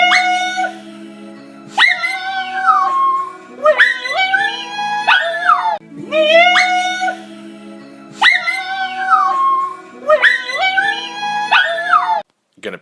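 A pet dog howls in long rising and falling wails, four drawn-out bouts separated by short pauses, loud and close with no other sound.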